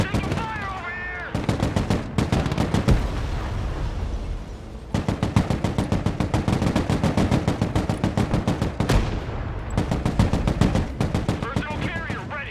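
Rapid bursts of automatic gunfire from the video game Broken Arrow, loud and near, firing in long rattling strings with short pauses between volleys and dense battlefield noise underneath.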